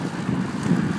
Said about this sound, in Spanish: viento en contra